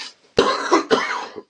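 A single close, dry human cough in three sharp bursts, alone in a quiet room, followed by a short throat sound.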